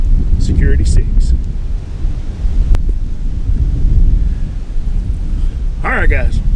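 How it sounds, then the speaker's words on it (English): Strong outdoor wind buffets the microphone in a steady low roar with gusty surges, and a brief high whistle-like sound shows up near the end. "the wind had blown everything I've got over, because it's whipping out here today"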